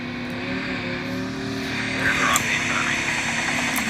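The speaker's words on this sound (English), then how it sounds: "Spots the helicopter there." A helicopter in the Call of Duty Mobile video game drones steadily with a rotor hum under continuous game noise, swelling slightly partway through.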